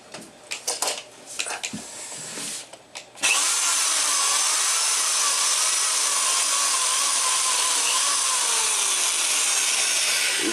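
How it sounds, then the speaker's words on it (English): Electric drill boring into a steel ball screw for an actuator build, starting after a few seconds of handling clatter and knocks, then a loud, steady high whine with grinding metal scraping that runs on without pause. "You see, I don't like this drill. It keeps running."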